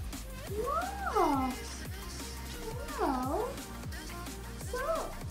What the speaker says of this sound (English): The kitty wants to fuss. The kitty is noisy.